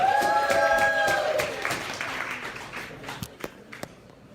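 Audience at an open mic night applauds a performer, with dense clapping as a sustained musical tone fades, then thinning into scattered louder individual claps and faint voices.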